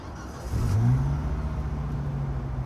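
Red Volvo 850 with manual transmission starting up, a short crank catching into a firm rev, then settling into a smooth, steady idle close by.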